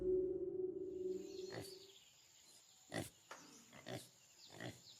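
Sow pig grunting in short, irregular bursts, with several distinct snorts spaced through the moment after a low droning hum fades out; moderately close and fairly quiet.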